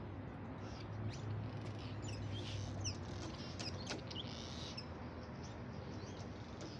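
Swallows near their damaged nest at Lake Elsinore, California, make faint scattered high chirps over a low outdoor rumble, distant and quiet.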